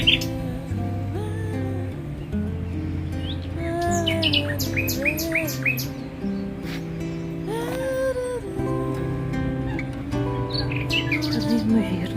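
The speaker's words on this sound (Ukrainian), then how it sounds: "Соловейко щебече." A nightingale sings nearby by a river, in varied, rapid chirps, whistles and trills, repeating phrases over a low steady hum in the background.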